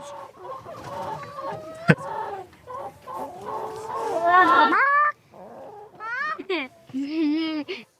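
Chickens cluck and squawk at close range in a classroom, with repeated rising calls and a few sharp bursts, while children and adults talk around them.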